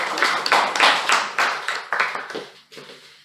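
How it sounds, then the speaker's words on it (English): Applause at a Toastmasters club meeting: a small group claps in sharp, separate slaps that thin out and fade over about three seconds. "Please give him a big round of applause."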